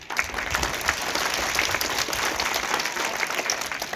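Steady audience applause at a school Teachers' Day ceremony, a dense, continuous clapping from a gathered crowd lasting throughout, moderately loud and even without any voices over it.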